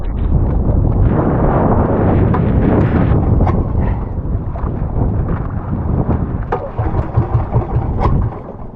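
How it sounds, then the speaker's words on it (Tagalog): A boat's engine runs loud and rough at close range with uneven, sputtering bursts while wind roars against the microphone. "Palyado pa yung makina natin."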